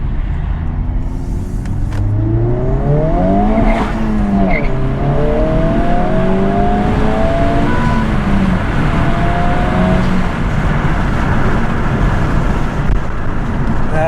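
Honda Civic Type R FL5 with a Spoon part pulls hard under acceleration, its engine note sweeping steeply upward through gears with brief dips at shifts, loud and sustained from inside the car over steady road roar.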